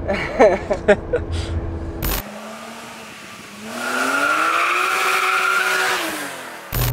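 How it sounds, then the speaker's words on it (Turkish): A BMW E36 M3 inline-six engine hums steadily, then its note swells and climbs as it revs, holding a smooth, even drone before easing off. "Ciğerden gelen o ses sıralı altı."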